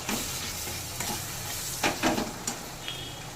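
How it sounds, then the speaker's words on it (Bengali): Turmeric, chilli powder and salt frying in a pan, a continuous close sizzle with several scraping strokes as the spices are stirred. "এবার এই মশলাটাকে একটু নেড়ে কষে নেব।"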